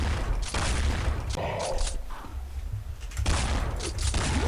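Loud bursts of automatic fire from a Counter-Strike Online Splash-series weapon come at the start and end, with a quieter mechanical passage between them that sounds like reloading. No voices are heard.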